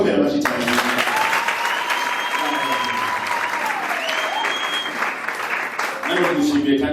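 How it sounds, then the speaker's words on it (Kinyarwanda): A church congregation at a Sunday service claps loudly and continuously, dense applause filling the room, with a voice and a sustained tone running underneath. "reka tuyikomere amashyi cyane."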